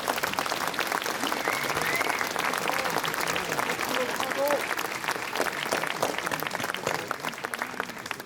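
A committee gathering's audience applauds its secretary general with dense, sustained clapping, fairly close and full, with a few voices audible within it throughout.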